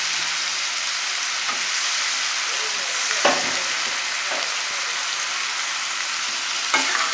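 Brinjal frying in oil within a gravy, producing a dense, even sizzle close by, with occasional faint stirring knocks and no one talking.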